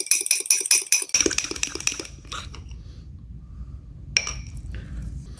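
Lemon cake batter being mixed and scraped down in a dish for a single-serve cake: quick bright clinks of a utensil against the bowl, then softer scraping and stirring with a brief clink near the end, close and with no talk.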